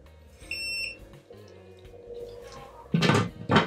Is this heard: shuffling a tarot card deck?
no